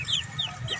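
Chickens kept by a Negros Oriental fowl raiser, including two-month-old birds, clucking close by in a few quick, high calls over a low rustling background.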